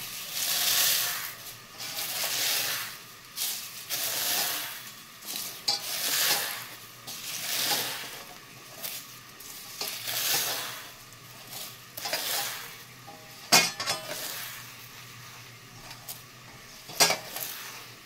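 Neem leaves being fried and stirred in a pan, with a steady hissing sizzle that swells and fades as a utensil scrapes and stirs, then sharp clinks of metal against the pan near the end, close and with no talking.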